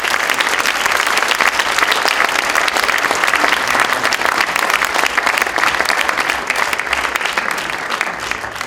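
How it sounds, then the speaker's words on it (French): A large audience at the closing ceremony of a geography festival delivers loud, continuous applause, a dense and even roar of clapping that holds for the full stretch with no talking. "et vous pouvez applaudir."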